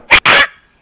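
Zombie hellhound from Black Ops 2 Zombies lets out two sharp, loud barks in quick succession, close and alone with no talk over them.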